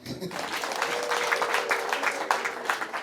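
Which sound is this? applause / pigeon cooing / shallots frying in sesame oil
applause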